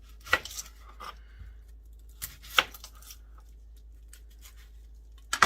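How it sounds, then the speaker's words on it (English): A knife cuts up an onion on a board in a home kitchen, making a few sparse, soft chops with quiet gaps between them, close by and with no talk. "I'm going to cut up an onion"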